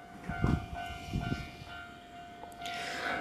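A local stopping train pulls away from a station platform; low rumbling pulses of the carriages come through faintly beside a steady hum, with a brighter hiss toward the end and no voices.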